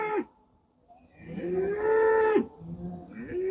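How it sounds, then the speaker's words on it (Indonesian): Dutch dairy cows low in long, loud moos as they are let out of the barn onto the farm in the Netherlands. One short call is followed by a drawn-out nearby moo and then the start of another, with no talk. "Itu sapi-sapi sudah dirilis dari kandang."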